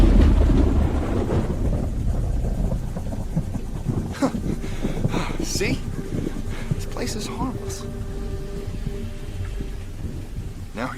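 Thunderstorm with steady heavy rain, rumbling low thunder and a dense hiss of rainfall throughout, loud and close, while people speak over it.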